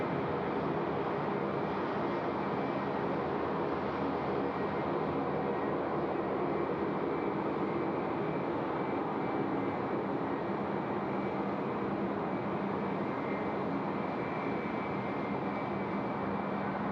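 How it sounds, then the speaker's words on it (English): A Jetstar Airbus A320 airliner passes at Sydney Airport at night, a sustained, fairly distant engine drone with a faint steady hum, even in level and alone without speech. "Jetstar A320 now coming across our screens here in front of Sheps Mound"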